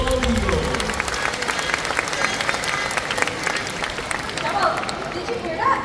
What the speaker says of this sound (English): Ladies and gentlemen, big round of applause for Susie, our American bald eagle.